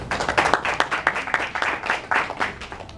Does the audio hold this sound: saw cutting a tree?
no